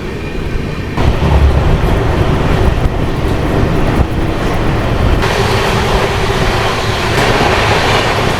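The Hubballi to KSR Bengaluru Jan Shatabdi express runs at speed, heard from on board with a loud continuous rumble, rattling car noise and periodic clunks over rail joints.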